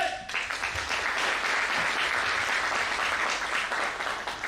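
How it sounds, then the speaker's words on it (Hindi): A large audience at a Nutricharge mega draw event claps in sustained, dense applause, a steady loud wash of hands lasting the whole stretch with a little speech faint beneath. "यहाँ पर तालियों की आवाज सुनाई दे रही है"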